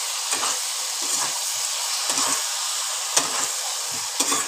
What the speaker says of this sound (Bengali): আলুগুলো দিয়ে আবার খানিকক্ষণ কষিয়ে নিচ্ছি